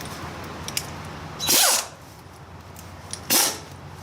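Impact gun runs in two short bursts driving a bolt on a wood chipper during servicing, each burst loud and close, with quiet pauses between.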